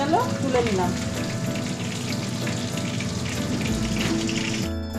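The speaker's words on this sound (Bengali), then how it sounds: "মাছগুলো ভেজে নেব" Pabda fish frying in hot mustard oil in a clay pot, a steady dense sizzle and crackle that holds at an even level throughout.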